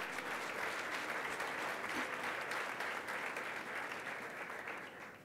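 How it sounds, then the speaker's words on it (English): A large dinner audience at a Puerto Rico benefit event applauds warmly, a thick continuous roar of clapping that holds steady and tapers slightly at the close. "Let's give them a round of applause."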